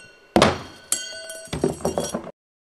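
A diamond cutting disc for an edge grinder is shot from a small washer launcher, giving a sharp thunk, a second clinking impact and a short cluster of rattling hits, close and fairly loud.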